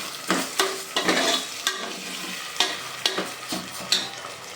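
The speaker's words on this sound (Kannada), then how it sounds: "ಕಾಳು ಹಾಕ್ಕೊಂಡು ನೀಟಿಗೆ ಫ್ರೈ ಮಾಡ್ಕೊಳ್ಳಿ" Cooked green gram (mung beans) fries in a pan and is stirred, making a soft sizzle. Regular, close scraping strokes of the spoon are heard, with no voices.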